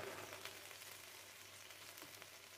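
Meat sizzling as it browns in a pan for a Provençal spelt sartanade, a steady broadband frying hiss running throughout with a low hum beneath, moderately quiet and without talk.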